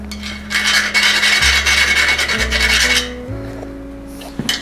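Steady coarse rasping of a reamer grinding against a bicycle rim to enlarge a valve hole, continuous for a few seconds, then a low motor hum with stepping tones as it winds down.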